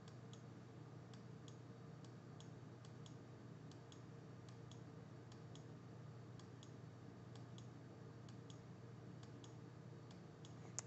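Computer mouse clicks during GPU undervolting in Nvidia settings software, a series of faint, sharp clicks spaced irregularly over a steady low hum, with no talking.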